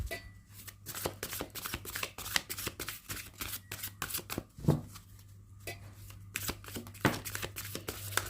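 A deck of angel cards is shuffled up close in quick, riffling bursts, with soft flicks and taps between passes and no talking.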